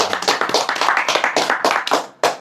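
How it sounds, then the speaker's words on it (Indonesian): An audience at a religious talk breaks into applause, a quick run of fairly close hand claps that grows uneven and tapers off into a few scattered claps. "Tepuk tangan."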